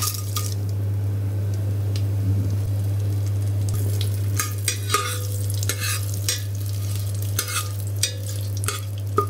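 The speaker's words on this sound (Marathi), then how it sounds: "आपण हे सगळे जे खडे मसाले आहेत ते त्याच्यामध्ये टाकूया।" Whole spices sizzle and crackle in hot oil and ghee while being stirred for a chicken biryani, with steady frying noise and scattered sharp pops and clinks of a utensil against the pan, no talking.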